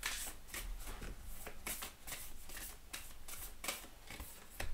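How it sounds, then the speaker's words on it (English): Oracle cards are shuffled by hand in rapid, crisp riffling bursts, close and fairly quiet, with no talking. "let's pull you an Oracle card."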